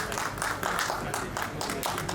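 A gathered audience at a public address in India claps steadily, a soft, even patter of many hands that holds moderately distant for a couple of seconds.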